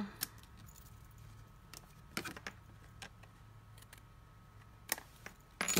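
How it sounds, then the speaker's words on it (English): Metal snips cut two pieces off in a quiet craft setting, giving a few sharp, close clicks spread apart with a louder crisp snap at the end. "So then I'll take my snips and we'll just snip these two pieces"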